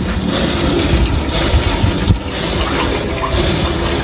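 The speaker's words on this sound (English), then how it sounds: "it'll probably take a little bit for the water to go through the filter right there" Water rushes steadily through the filter of a homemade cold plunge chiller, a constant close-up hiss and gurgle with no pauses, mixed with some low rumble.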